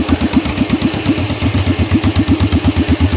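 A 1949 John Deere tractor engine runs steadily in the cold, its loud, close, low chugging beat pulsing in an even rhythm throughout with no talk.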